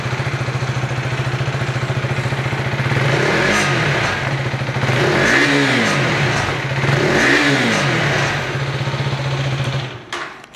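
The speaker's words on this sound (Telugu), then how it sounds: "చూసారా, కొంచెం వరకు ఆ ర్యాట్లింగ్ సౌండ్ అనేది వినిపిస్తుంది." A KTM 250 Adventure motorcycle engine idles close by, then is revved twice, each rise and fall of pitch clear and loud, with a slight rattle beneath the exhaust before it settles and cuts off.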